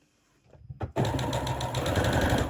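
After a few soft handling noises, a sewing machine starts up stitching fabric bunting and runs close and steady with a fast rhythmic whir.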